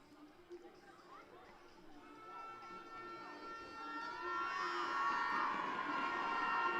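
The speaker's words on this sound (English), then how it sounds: "And that smallish crowd from Northumbria are now making themselves heard." A small crowd of Northumbria supporters cheers and shouts at a women's university football final, the noise swelling steadily louder and sustained near the end, with chatter mixed in.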